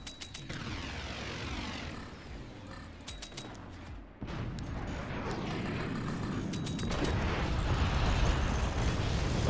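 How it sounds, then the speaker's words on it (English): Rapid machine gun fire from the video game Forts, dense rattling bursts layered with booming impacts and a constant roar of battle, loud and continuous throughout. "Of course those frick machine gunners are working overtime for him."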